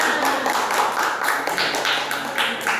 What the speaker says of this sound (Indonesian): Beri tepuk tangan dulu untuk teman-temannya.